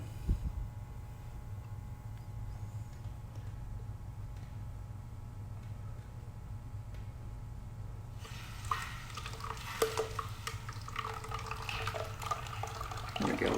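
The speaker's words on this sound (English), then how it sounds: "We got a nice slow trickle now." Water slowly trickling from the drain of a pneumatic system, the valve cracked open just slightly; a faint steady flow over a low hum, turning brighter and splashier with small spurts in the last few seconds.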